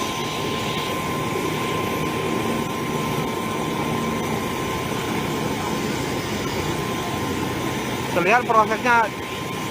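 A helicopter waiting to evacuate the Jambi police chief's party after a crash in Kerinci, Indonesia, a steady droning engine and rotor hum throughout, with a short burst of speech near the end.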